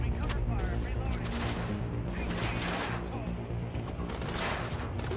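Sustained gunfire fills a combat fight in The Division, a dense continuous barrage of shots layered with bursts, loud and close throughout, with voices under it.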